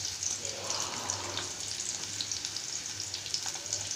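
Onions, green chillies and carrot frying in oil for semiya upma, a steady close sizzle with faint stirring scrapes and no talk.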